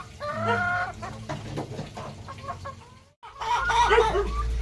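Rhode Island Red and Dekalb Brown chickens cluck and squawk up close on a farm, a busy overlapping chorus of clucks with a brief pause before the noisy cackling resumes.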